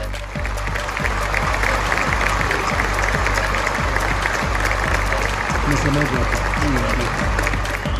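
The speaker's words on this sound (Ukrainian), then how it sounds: "Формальність завершилася 30-секундними оплесками на знак повної підтримки Інфантіно." Applause at a FIFA congress greeting Gianni Infantino, a dense, steady wash of clapping from a large hall crowd that lasts the full stretch at even loudness, with a faint low hum beneath.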